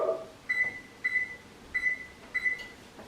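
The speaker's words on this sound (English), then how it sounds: "we got to turn the oven on to 400 degrees" An oven being set to preheat to 400 degrees, its control panel giving four short electronic beeps at an uneven pace, close and clear over a faint room hum.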